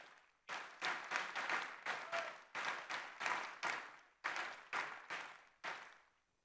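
Conference audience in Arras applauding in a string of about a dozen short, evenly spaced bursts, each cutting off abruptly before the next, faint and somewhat distant overall.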